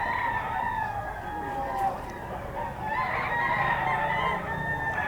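Young gamecocks (stags) crow repeatedly at a poultry seller's stall in Bocaue, with clear rising and falling calls over a busy, murmuring background.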